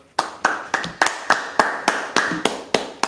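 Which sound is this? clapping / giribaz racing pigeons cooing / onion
clapping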